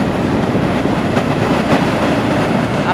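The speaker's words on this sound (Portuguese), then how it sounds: "O que passa aqui é um metrô, não mais o trem como antigamente." A Recife metro train rumbles steadily past at close range through Imbiribeira, a continuous loud roar with faint clickety-clack from the wheels over the rails and no voices.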